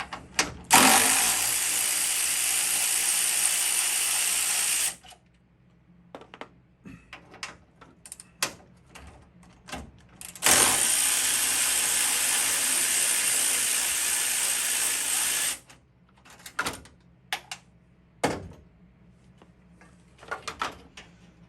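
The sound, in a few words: ratchet removing screws from Ford hood latch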